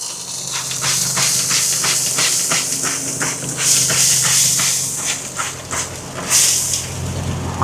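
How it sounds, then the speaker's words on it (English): Repeated spritz bursts from a spray bottle misting store-trimmed St. Louis pork ribs for smoking, a steady run of short, close hissing squirts in quick rhythm with no talk. "We're going to put the spritz on the store trimmed St. Louis ribs"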